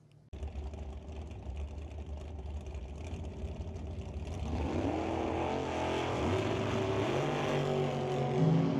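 Two drag racing cars launch together at Mission Raceway, their engines swelling from a loud idle into a roaring, rising drone that builds and holds as they pull away, with no talk.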